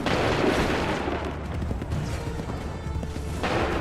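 A musket volley from Assassin's Creed 3 sounds as a loud burst of massed gunfire followed by a rumbling, crashing tail in a noisy battlefield din.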